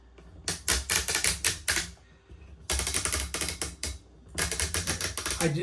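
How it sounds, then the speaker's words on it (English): A hobby model tank's ratchet mechanism clicks in rapid bursts of sharp plastic ticks, three runs of fast clicking separated by short pauses, loud and close. "There's something about that ratchet sound that I just love."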